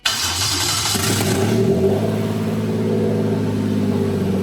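A Toyota 1JZ-GTE VVT-i engine in a JZS171 Crown fires up with a sharp catch, then idles loudly and steadily nearby, its tone shifting as it runs with no voices over it.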